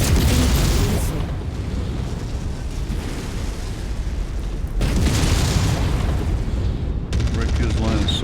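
Missile explosions in a mech combat video game: heavy booming blasts and rumbling impacts that come in waves, loud and close, with a voice talking during the fighting.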